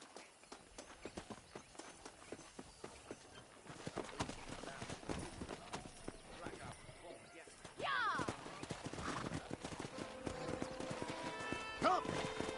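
Horses clip-clopping at a trot with a sharp neigh partway through, set against game music and ambient effects in Red Dead Redemption on PS5, with a voice briefly present.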